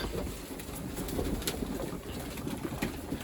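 Low murmuring coos from breeding pigeons roll on steadily throughout, soft and close, with faint shuffling noise and nobody speaking.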